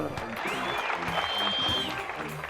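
Steady applause from a comedy show audience fills the clip, dense and sustained throughout, with some crowd noise mixed in.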